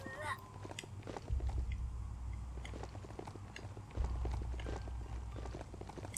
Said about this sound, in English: we could summon a horse up here, right?